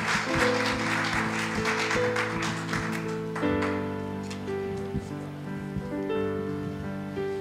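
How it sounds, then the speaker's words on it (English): A church congregation claps, dense rapid hand claps filling the first few seconds over sustained keyboard or organ tones, then the clapping thins out while the music carries on. "we would like to give her a encouragement hand clap this morning as she comes up to do devotion"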